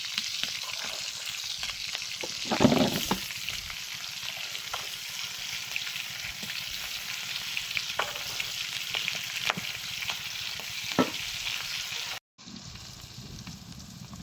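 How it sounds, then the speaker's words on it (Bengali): Pieces of fish fry in hot oil with a continuous, even sizzle, close and moderately loud. A few brief spatters and scraping sounds rise from it before it cuts off near the end. "মাছ ভাজা শেষ"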